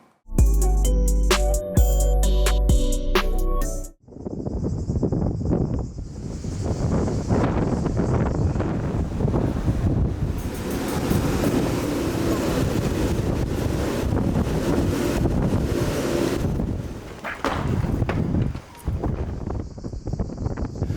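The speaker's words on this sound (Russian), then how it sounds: "Есть ветер, мистраль, который, является вот таким известным в Провансе, особенно в Авиньоне, сложным явлением природы." After a few seconds of music, the mistral wind of Provence buffets the microphone in continuous roaring gusts, loud and unbroken throughout.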